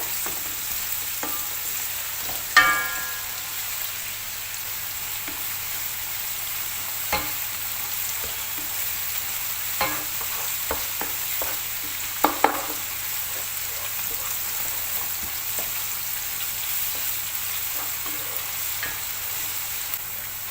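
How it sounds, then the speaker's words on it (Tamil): Onions frying in a pan for homemade Saudi kabsa, a steady close sizzle with a few sharp clinks and scrapes of stirring scattered through, no voices. "வெங்காயத்தை கொஞ்சம் பொன்னிறமாக வறுத்துக்கங்க."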